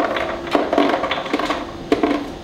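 An espresso portafilter of coffee grounds is knocked against a hard surface in a series of about six dull, wooden-sounding taps, close and fairly loud, with no talking.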